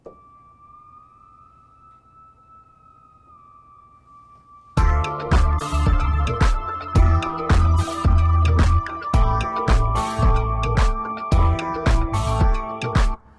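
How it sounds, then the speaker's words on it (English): A sustained Prophet 6 synthesizer tone holds, then bends slightly upward like a siren, before a full band with heavy drums crashes in loudly. "I added this siren from the Prophet 6. It's just a note, and then I'm sliding it up."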